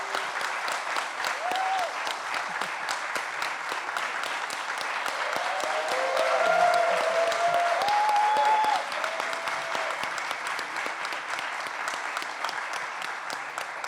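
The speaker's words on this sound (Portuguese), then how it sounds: "Gostava também de pedir o vosso aplauso para Walter Firmo" At an exhibition opening, an audience claps warmly in continuous applause that swells slightly in the middle, while a few scattered voices and whistles rise briefly over the clapping.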